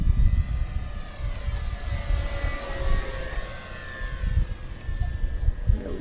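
A Dynam Spitfire MK.VB RC floatplane, 1200 mm span and refitted with a ventral fin, flies on its maiden flight with a steady electric whine whose pitch gradually shifts as it passes, over outdoor rumble.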